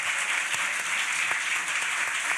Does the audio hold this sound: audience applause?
yes